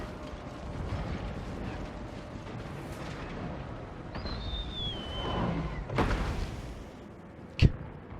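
Skaven sniper fire in Total War: Warhammer, Clan Eshin battle: scattered battlefield booms over a constant rumbling din, with a sharp whistling streak midway and a loud crack near the end.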